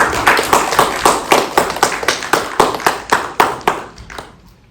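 Audience applause for Raja after a talk on social justice and women's empowerment at Oxford Brookes University, heard as a run of loud, distinct claps in a steady rhythm that thins out and stops near the end.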